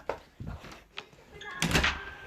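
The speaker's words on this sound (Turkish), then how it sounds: "bir kapıyı kapatıp geleceğim" A door being shut indoors during a game session, a brief thunk with a short slam-like burst, heard after a few knocks and shuffling, fairly close.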